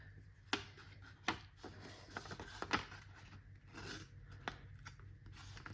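Inexpensive paper cutter slicing through a sheet, giving several sharp rasping cuts spaced irregularly at close range, with a low steady hum underneath and no talking.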